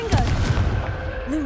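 A Confringo fire spell blasts in the video game Hogwarts Legacy, a loud booming burst with a sharp onset that rumbles on through the whole moment amid game ambience.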